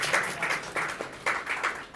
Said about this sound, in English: A big round of applause for Mr. Venkateshan.